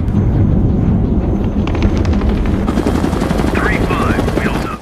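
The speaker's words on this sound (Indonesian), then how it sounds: "terhalang oleh suara helikopter" Loud, dense rattling bursts of rapid gunfire over a heavy, continuous helicopter rumble, with a voice shouting faintly near the end.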